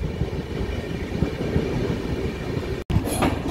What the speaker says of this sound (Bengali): ট্রেনটি খুর্দা রোড স্টেশন ঢুকে গেল।